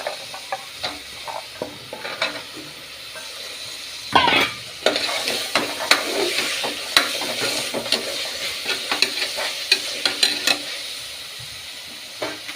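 Ingredients for mint rice sizzle and fry in a pan, loud and close, with a steady hiss broken by frequent scraping stirs and clinks against the metal, no voices.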